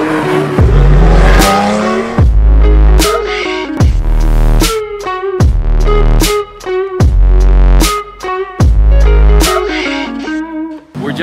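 A car accelerates hard on a fast drive near Malibu, the engine loud and close and revving up again and again in repeated pulls, with gear shifts cutting between them.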